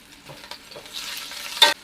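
Onion, sweet pepper, garlic, thyme and pimentos hit hot oil in a pot for Jamaican steamed fish, giving a short, close crackling sizzle with scattered soft clicks that swells into a brief louder burst near the end.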